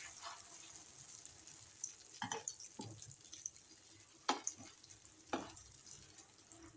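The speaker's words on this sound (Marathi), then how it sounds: "त्याच्यावरती आपण हे मिश्रण ठेवूया, सोडून देऊया आणि 2 चमचे आपण अंड्याचं मिश्रण घालूया आणि पसरवून घेऊया." An egg mixture for egg rolls cooks in a pan with a faint, steady sizzle. A few soft scrapes and taps sound as the batter is spread round, quiet and close.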